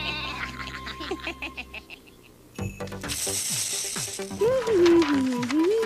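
A sheep bleats in a cartoon nursery rhyme, a loud, wavering bleat near the end after musical tones and playful sound effects.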